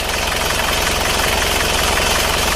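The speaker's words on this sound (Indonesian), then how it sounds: "setiap 2 putaran mesin ini berhembus satu. Berarti ini satu silinder ya. Satu silinder yang bermasalah." An engine with blow-by from one faulty cylinder runs loud and close, a steady throbbing idle with a rhythmic puffing knock repeating through the whole stretch.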